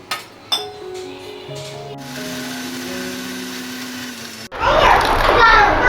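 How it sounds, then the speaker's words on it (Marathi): A kitchen mixer grinder starts up and runs loudly through the last second and a half, a dense, steady whirring roar, after a quieter stretch of tonal clinks and household sounds. "आपण अजून एकदा मिक्सरला ग्राइंड करून घेऊया"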